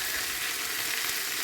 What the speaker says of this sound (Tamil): நல்லா வதக்க வேணும், மூடாமல் இப்படியே மெதுவான சூட்டில் ஒரு 7-10 நிமிஷம் வதக்க வேணும்.